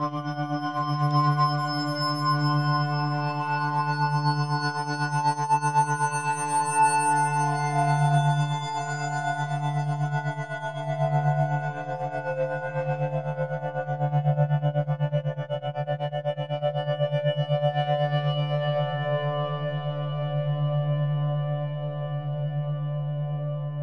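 Omnisphere synth patch on the Morning Reflection preset, a sustained emotive soundscape pad with a steady low drone and shimmering upper harmonics, pulsing gently under tremolo throughout with no talk.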